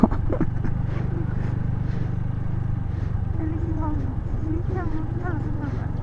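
A motorcycle ridden along a winding rural village road hums with a steady, low engine drone throughout, while voices talk over it.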